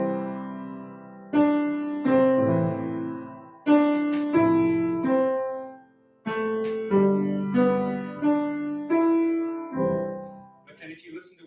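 A tune is heard as a single, close melodic line of sustained notes, each with a clear attack followed by a gradual fade.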